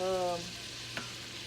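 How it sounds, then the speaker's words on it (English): Shrimp sizzle gently in a pan over low heat for a Cajun fettuccine, making a steady, soft frying hiss, with a brief stir or scrape about a second in. "I'm cooking this on low because you know it don't take but 2 to 3 minutes for shrimp to cook"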